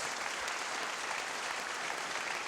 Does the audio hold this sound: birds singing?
no